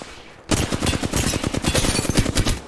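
Rapid automatic gunfire in the Apex Legends battle royale game, starting abruptly after a brief quiet moment and continuing as dense, loud, overlapping bursts of shots to the end.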